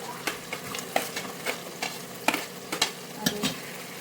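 Potato, carrot and beans frying in a pan, with a steady close sizzle broken by repeated scraping clicks of a spatula stirring the vegetables, no voices.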